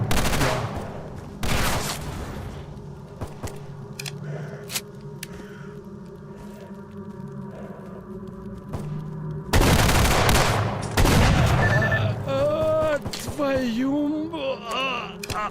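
Gunfire in the shooter game Stalker Anomaly comes in loud bursts early and again near the middle, mixed with game effects and a person talking over quieter stretches.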